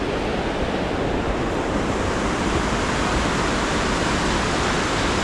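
Steady rushing water at a creek fish ladder in Ketchikan, Alaska, a broad continuous roar of churning flow close by, unbroken and even throughout with no voices over it.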